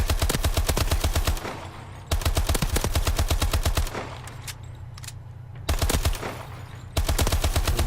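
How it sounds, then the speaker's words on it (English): A SAC-3 submachine gun in Call of Duty Advanced Warfare fires fully automatic bursts: rapid, loud, evenly spaced shots in several long strings separated by short pauses. "Well, let's try to fire long range."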